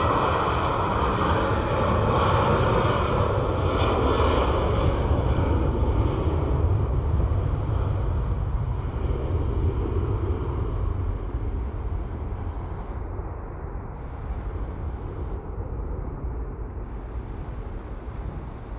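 A jet airliner roars as it takes off from Montego Bay airport in Jamaica, a broad, steady rumble that stays loud and slowly fades over windy outdoor air near rough seas.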